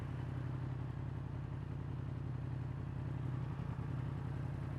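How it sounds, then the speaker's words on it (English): A motorcycle with a cross-plane crank engine rides along a road past Windermere, Kirkstone Pass and Ullswater, giving a steady loud engine drone with wind rush throughout. "Cross-plane crank engine every day."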